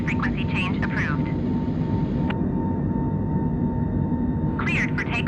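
Korean Air Boeing 747-8 jet taking off from San Francisco International Airport, a steady loud engine roar heard from the cabin, with radio chatter from the tower over it.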